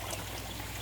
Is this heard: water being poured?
yes